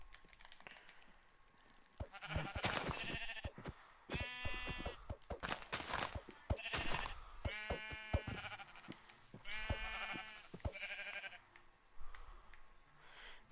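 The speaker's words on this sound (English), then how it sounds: "Another sheep." Sheep in the video game Minecraft bleat repeatedly in loud, wavering calls, several overlapping bursts spread across the stretch with brief gaps between them and no talk over them.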